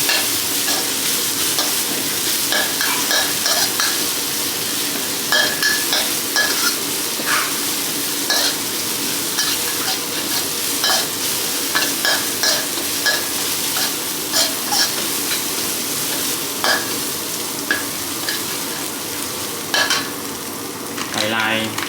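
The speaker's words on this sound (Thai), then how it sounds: "ผัดให้พริกกระเทียมหอมเลยนะครับ" Chili and garlic stir-fry in vegetable oil in a pan with a steady loud sizzle, broken by repeated scrapes and clinks as a utensil stirs them.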